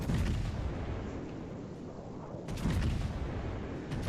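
A Montana-class battleship firing its main broadside in World of Warships, heavy booming salvos with a distant rumble, a second volley landing about two and a half seconds in.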